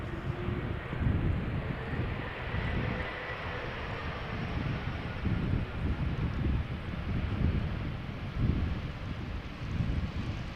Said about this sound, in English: KLM flight 1030 arriving from Manchester,